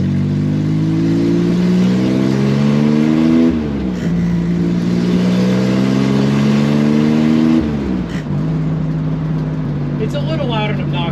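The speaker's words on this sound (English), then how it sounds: "if you like flat 6 air-cooled noises, this makes them." Chevrolet Corvair chop-top with a flat-six air-cooled engine, revving loudly and close up through repeated rising gear-like sweeps and drops, a gruff, raspy exhaust note under someone talking.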